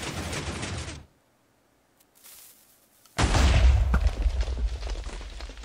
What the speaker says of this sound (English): Let's see if I can get them with some TNT.